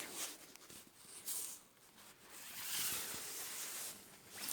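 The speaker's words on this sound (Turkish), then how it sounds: "Böyle fermuar kısmımız." A hidden zipper on a long, lined, padded women's winter coat is pulled in a few quick rasping strokes, close and fairly soft, with no talking.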